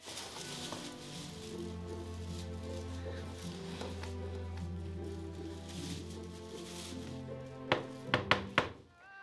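Several sharp knocks on a door come in a quick cluster of about four raps near the end, heard over steady background music.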